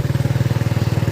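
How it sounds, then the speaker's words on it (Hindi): A motorcycle engine chugs along in a fast, even pulsing beat, loud and close, while a rider cruises slowly toward a market square. "बाबा आराम आराम से मोटरसाइकिल चला रहे हैं"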